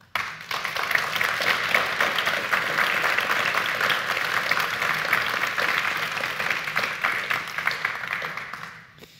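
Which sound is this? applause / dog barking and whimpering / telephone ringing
applause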